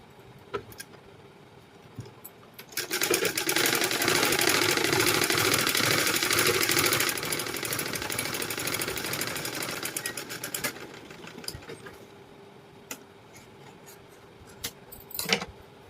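A sewing machine runs a seam on a blouse lining, starting with scattered clicks, then a loud steady motor whir for several seconds that eases into quieter running and returns to sparse ticks and handling noises at the end.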